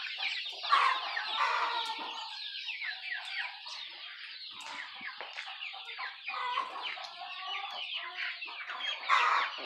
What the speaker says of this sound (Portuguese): Aqui já é a parte das galinhas maiores.